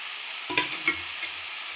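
Capsicum, cabbage and tomato stirred in a pan for dosa masala, with a few scrapes and clinks of the spoon over a soft steady sizzle of frying vegetables, close and fairly quiet.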